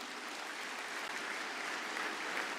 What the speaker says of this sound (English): Can we have an applause from the last part of the hall, please?